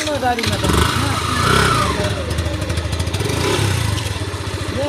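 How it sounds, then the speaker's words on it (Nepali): A motorcycle engine putters and revs nearby with a rhythmic throb, while people talk over it, at night. "मामाले बाइक कुदाउनुहुन्छ।"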